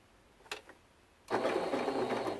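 A sewing machine starts up on quilt binding after a couple of soft clicks, settling into a steady, close mechanical whir for the last second or so.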